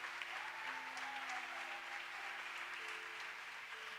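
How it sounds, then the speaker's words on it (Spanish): A church congregation bursts into sustained, even applause that holds at a loud, dense level throughout, with a few faint voices under the clapping. "Dale un aplauso a Él."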